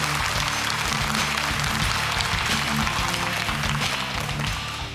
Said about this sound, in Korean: 격려의 박수 한번 부탁드리겠습니다.